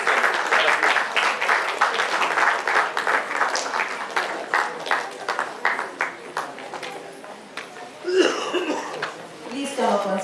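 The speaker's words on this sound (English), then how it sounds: "Let's give a big round of applause to those who have got through the uniforms." Applause from the audience at a school awards ceremony as uniformed students are honoured, with close, uneven claps running throughout. A few coughs and brief murmurs surface beneath it, and a louder burst rises near the end.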